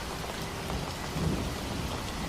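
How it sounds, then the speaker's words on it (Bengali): A cartoon storm on a spring night, with steady heavy rain pouring down and a deep rumble of thunder swelling underneath, alone with no voices. "দেখছো কেমন ঝড় বৃষ্টি শুরু হয়েছে? আর কি জোরে জোরে মেঘ ডাকছে, মনে হচ্ছে কান ফেটে যাবে।"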